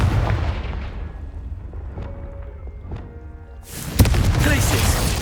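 Confringo fire spell in the video game Hogwarts Legacy, heard as booming explosive blasts during spell combat: a rumbling impact, a pair of sharper cracks, then a loud burst near the end over continuous low battle noise.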